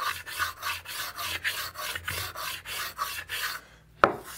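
A hand plane shaving the inside of a carved archtop guitar plate, likely spruce or maple, making a steady series of close rasping strokes, roughly three per second, ending in a sharp knock.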